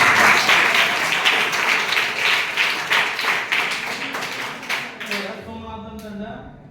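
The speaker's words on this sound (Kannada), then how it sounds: "ಸರಿಯಾದ ಉತ್ತರ ಚಪ್ಪಾಳೆ" Applause breaks out at a school Chandrayaan 3 quiz competition after a correct answer, a dense burst of many hands clapping that fades out toward the end.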